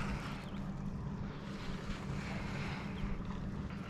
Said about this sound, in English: Oh no, that was a wave.